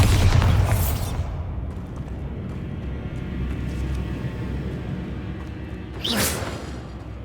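Bombarda spell blast in Hogwarts Legacy, a loud burst at the start trailing into a low rumbling ambience, then a second bright whooshing impact around six seconds in.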